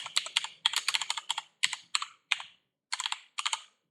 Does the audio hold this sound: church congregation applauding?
no